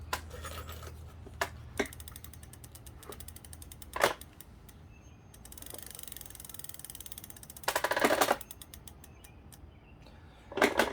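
Lectric XP e-bike rear wheel spins on its geared hub, giving a rapid ticking ratchet click with scattered louder clacks and a brief metallic rattle, close and alone.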